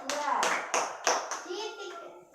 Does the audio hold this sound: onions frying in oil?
no